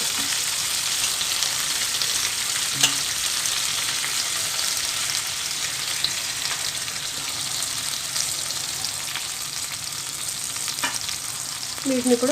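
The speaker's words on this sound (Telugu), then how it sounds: "ఇలా ఆయిల్లో టమాటాలను చక్కగా వేయించేసుకుంటే" Tomatoes and green chilies fry in hot oil with a steady, close sizzle that runs throughout, broken by a couple of faint knocks and a brief scrape near the end.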